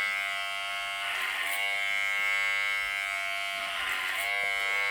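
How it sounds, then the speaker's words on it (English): Electric hair clippers run continuously through a clipper-over-comb haircut on short hair, a steady close buzzing hum that swells slightly as the blade moves through the hair. "why I just do clipper over comb"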